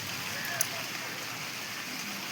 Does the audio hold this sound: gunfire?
no